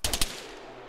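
A short burst of rapid gunfire in a military shooter game, three quick sharp shots followed by a fading tail, with no voices.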